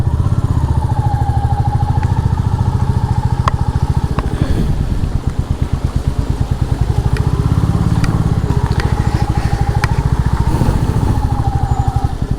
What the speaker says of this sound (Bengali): এখন আমি আপনাদের রয়্যাল এনফিল্ড মিটিওর নিয়ে একটু অফরোডিং করে দেখাবো।